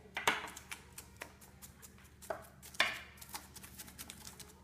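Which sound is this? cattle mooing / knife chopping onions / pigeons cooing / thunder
knife chopping onions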